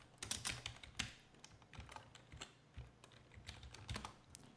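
Fast typing on a computer keyboard during an After Effects session, a quiet run of crisp, irregular key clicks close to the microphone with short pauses between bursts.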